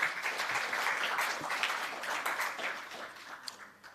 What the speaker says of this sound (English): I think we need to give that a round of applause.